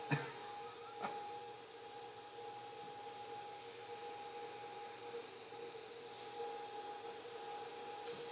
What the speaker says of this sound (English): as the printer goes round and round.